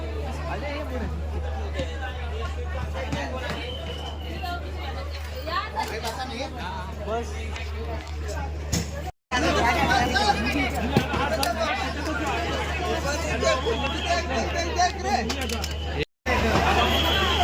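Crowd chatter on a bus boarding in Thane for the trip to Kankavli in Konkan, a steady murmur of many overlapping voices close around, with a low engine hum beneath and two brief cuts.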